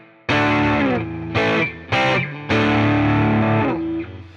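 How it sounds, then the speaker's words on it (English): Budget electric guitar played through a distortion effect, four loud sustained chords with brief gaps between them, the last ringing out longest, crunchy and up front with no talking. "let's throw a little distortion on here."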